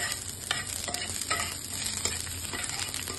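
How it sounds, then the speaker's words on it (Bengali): Chopped garlic sizzles in hot oil in a pan as it fries for potato chops, a steady crackling hiss with occasional stirring scrapes, close and clear. "আমি প্রথমেই দিয়ে দেবো রসুন কুচি। তারপর এটা একটু হালকা ভেজে নেব।"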